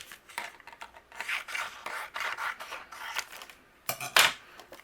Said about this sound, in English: I'm actually going to trim off this side here.